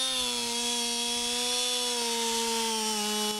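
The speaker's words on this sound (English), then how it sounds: "He started by using a chainsaw to create an opening under the tree." A chainsaw cuts an opening low in the trunk of a standing pine tree, its engine holding a steady, high, droning whine throughout the short stretch, loud and close.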